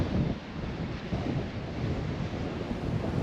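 Strong wind sweeps the South Wales coast on a walk from Porthcawl toward Sker Point, a steady roaring rush with gusts buffeting the microphone and surf-like churning beneath, no voices.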